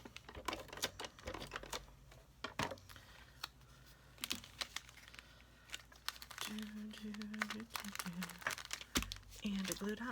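Tape is torn and handled at a craft table while making a Christmas tag, with crinkling, tapping and rustling of paper and tape, close and intermittent, with a voice speaking at times.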